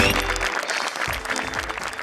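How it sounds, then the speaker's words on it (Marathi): An audience at a Marathi comedy stage show claps for Anthony of the makeup department, a dense burst of applause that fills the short stretch at steady loudness. "मेकअप डिपार्टमेंट मधील अँथनी दादांसाठी जोरदार टाळ्या"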